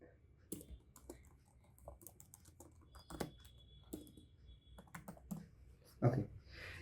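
Someone typing a name on a computer keyboard while working in Microsoft Word: quiet, irregular key clicks in short bursts, heard close up in a calm room.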